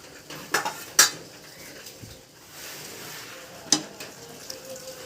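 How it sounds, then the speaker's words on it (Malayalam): A metal cooking pan set back onto the stove top: a few sharp clanks and a scrape, close and fairly quiet, spread over several seconds with a low background hum. "വീണ്ടും ചട്ടി അടുപ്പത്ത് വെച്ച്"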